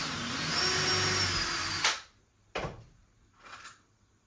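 Cordless drill driving the first screw into a wall batten in a workshop, a steady loud whir lasting about two seconds that cuts off abruptly, followed by two brief fainter bursts.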